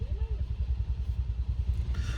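Motorcycles in slow traffic on the mountain road from Manali toward Baralacha rumble with a deep, pulsing engine throb close by, steady and unbroken throughout.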